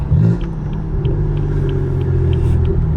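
A car rolls up with a steady low engine rumble at close range, holding an even idle-like drone throughout with no clear revving.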